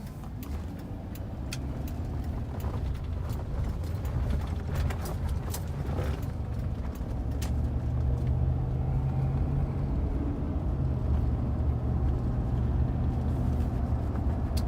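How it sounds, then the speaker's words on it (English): A 2002 Chevrolet Silverado pickup with an overdrive transmission, heard from inside the cab as it cruises. A steady low engine and road drone grows slightly fuller partway through, alone and without talk. "we are in drive right now. We just went into overdrive."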